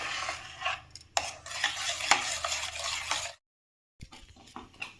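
Milk is stirred into broccoli soup in a pot: scraping, sloshing spoon strokes with a few sharp knocks against the rim, then a brief silence before quieter stirring resumes.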